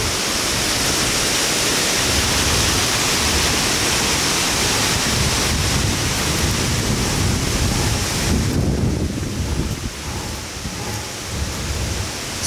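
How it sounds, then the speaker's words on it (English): A sudden, loud gust of wind roars through the woods, a broad rushing noise that holds strongly for about eight seconds and then drops off. "This burst of wind just came out of nowhere."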